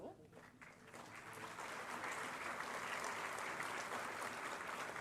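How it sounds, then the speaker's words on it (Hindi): Sustained audience applause at a Lucknow government ceremony distributing appointment letters to newly appointed instructors, building after a brief spoken introduction and continuing steadily and loudly throughout. "बस्ती से प्रियंका सिंह, आप तालियों के माध्यम से शुभकामनाएं हमारे इन नव नियुक्त अनुदेशकों तक पहुंचाएं।"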